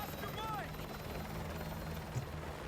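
Helicopter rotor drone from Call of Duty: Modern Warfare 2, a steady faint whir filling the background as the chopper leaves, with game sound effects over it.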